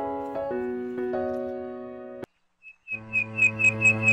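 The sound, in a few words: bird chirping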